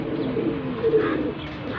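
Punjabi pigeon cooing steadily at close range, a low continuous murmur with a brief swell in the middle, no voices present.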